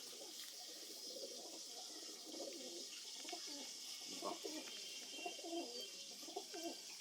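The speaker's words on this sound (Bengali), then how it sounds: "জিরা মাদা পায়রা জিরা মাদা পায়রা" Soft, low coos from Madrasi pigeons repeat steadily in the background, faint and a little distant, over a steady hiss with no talking.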